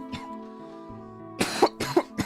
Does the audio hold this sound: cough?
yes